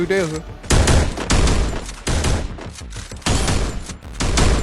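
Rapid gunfire in the mobile battle-royale game Free Fire, loud bursts of shots in quick succession with brief gaps, while someone talks over the action.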